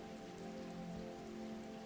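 Steady rain falling on a surface, an even, continuous patter with a constant hiss and no breaks, fairly soft and heard alone without voices.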